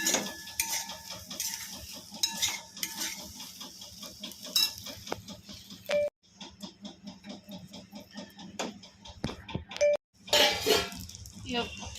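Stuffed eggplant curry is stirred in a pan with soft scraping and clinking over a low sizzle, broken by brief pauses, while a person talks over much of it.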